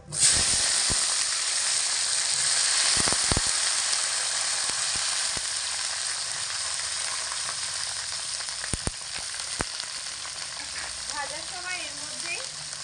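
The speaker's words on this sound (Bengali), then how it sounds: "গরম তেলের মধ্যে ঢ্যাঁড়সের পিসগুলোকে দিয়ে ভেজে নেব" Steady loud sizzling of okra frying in hot mustard oil, a continuous bright hiss with a few sharp crackles and faint stirring clinks.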